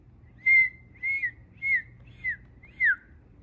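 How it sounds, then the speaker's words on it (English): Five short, soft dolphin whistles with rising-then-falling pitch, evenly spaced and clear against a quiet background. "They make soft whistling noises."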